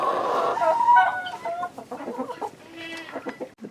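Chickens cluck and murmur inside a barn at close range, a run of overlapping calls early on, then scattered shorter clucks tapering off.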